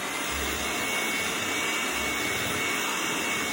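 An electric mixer beats spice cake batter on a slow setting, producing a steady, loud whirring hum that runs unbroken from start to finish with no voices.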